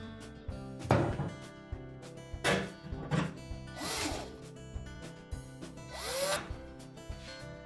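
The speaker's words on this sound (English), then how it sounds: "And then reinstall the screws." Screws driven back into the bottom panel of a Frigidaire range, several bursts of power-driver whirring with short gaps between, fairly close and moderately loud over a faint background.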